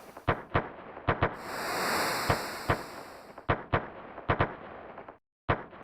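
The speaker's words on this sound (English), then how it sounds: "It's just fireworks and balloons." Fireworks in Chrono Trigger at Guardia's fair: a run of sharp, evenly spaced retro pops and bangs, some in quick pairs, over a bright hissing whistle and high tone, loud and close.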